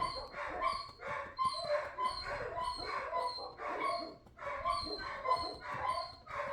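Several dogs bark repeatedly somewhere in the background, a string of yips and bow-wows in irregular bursts, moderately distant and with no speech over them.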